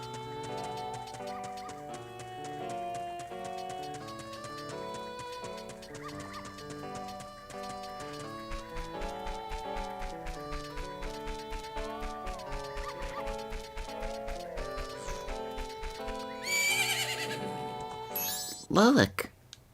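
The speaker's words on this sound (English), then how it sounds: "And I think I heard a familiar neigh." A horse neighs and clip-clops in Zelda: Majora's Mask at Romani Ranch, heard over looping game music with steady hoofbeats in the second half and a loud whinny near the end.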